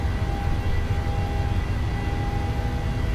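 PMDG 737-700 jet engines spooled up to takeoff power in Microsoft Flight Simulator: a steady, loud, low roar with a faint whine held constant throughout.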